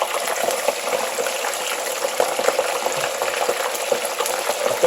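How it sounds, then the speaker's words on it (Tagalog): Tilapia fries in a pan for Filipino ginataang isda, giving a dense, steady sizzle with fine crackling pops throughout, close and fairly loud, with no voices. "piprito muna natin yung tilapia"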